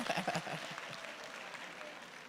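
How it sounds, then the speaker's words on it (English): Audience applause at a hospital town hall meeting, a short burst of clapping that starts fairly strong and fades quickly, moderately quiet and heard on its own. "Round of applause. Well done."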